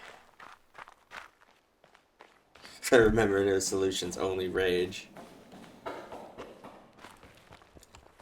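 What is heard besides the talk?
footsteps in the video game The Witness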